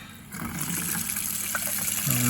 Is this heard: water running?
yes